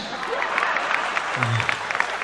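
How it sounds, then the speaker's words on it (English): Scattered rhythmic clapping from a crowd at a live Nigerian music show, moderately loud and uneven, with a voice and a brief low tone sounding beneath it. "clap for yourself"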